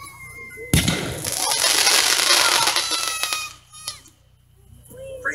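A firework hockey puck launched straight up by loose black powder beneath it at a park demonstration: a sharp blast followed by a loud hissing, crackling rush that fades over a few seconds.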